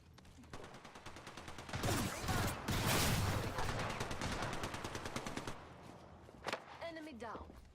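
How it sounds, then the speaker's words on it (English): Gunfire in a video game shooter: sharp, close shots build into dense automatic bursts, then ease off into scattered shots, while voices speak over the action. "Listen up, I'm getting shot at."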